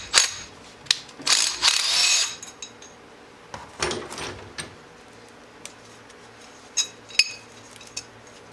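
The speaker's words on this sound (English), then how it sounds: "we're just going to pop one of them out just to show you" Metal weights and pins are pulled from a Can-Am X3 primary clutch, making sharp metallic clinks, jingles and ratcheting clicks in scattered bursts, close up with no talking.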